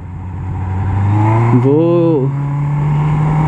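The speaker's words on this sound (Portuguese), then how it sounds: "Agora tá passando um carro." A car drives past on a street, its engine note swelling and then easing off, with someone speaking briefly in the middle of the pass.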